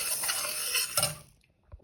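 Urad dal dry-roasting in a heavy-bottomed pan, a short burst of scraping and stirring with a faint sizzle that stops abruptly, followed by one soft knock.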